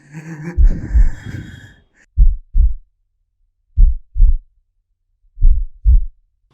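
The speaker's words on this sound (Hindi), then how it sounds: "ये धड़कनें मुझे क्यों सुनाई दे रही" Three pairs of deep, thudding heartbeats sound loud and close, evenly spaced against silence, after a brief burst of breathy, dramatic noise at the start, in a short-film adaptation of The Tell-Tale Heart.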